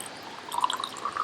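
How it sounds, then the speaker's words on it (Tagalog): Tap water is poured into a plant container, a short close trickle with bright splashing drips that swells toward the middle and continues to the end. "Lalagyan na lang natin siya ng tubig."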